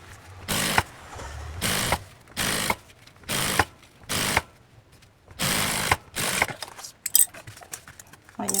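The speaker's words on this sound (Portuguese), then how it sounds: "passar a costura reta aqui" A sewing machine runs a straight seam on a fabric backpack in short repeated bursts of fast whirring stitching, with brief pauses and small clicks and fabric rustles between them, close up and no talking.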